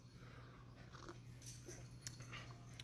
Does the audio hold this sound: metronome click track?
no